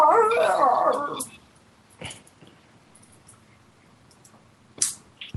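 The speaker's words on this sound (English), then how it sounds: "I love the sounds this dog makes." Dogs play fighting at home, with a loud, close burst of growling and whining vocalisation in the opening second, then a quieter stretch broken by a few short yelps and thumps.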